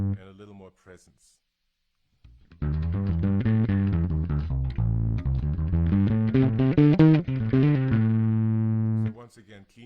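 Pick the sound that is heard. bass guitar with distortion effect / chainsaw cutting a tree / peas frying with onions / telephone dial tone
bass guitar with distortion effect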